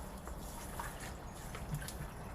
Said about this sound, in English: I'm just going to grab my hose, turn it on, and fill the bucket with water